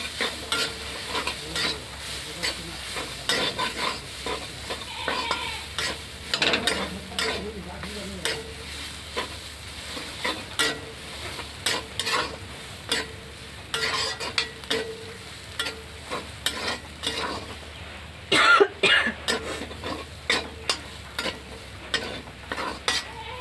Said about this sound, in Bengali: 5 মিনিটের মতো কষিয়ে নিতে হবে।